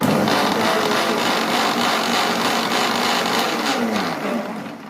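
A mixer grinder jar whirs steadily while lightly blending curd for kulambu, a loud, continuous motor drone that holds even for several seconds and eases off slightly at the end.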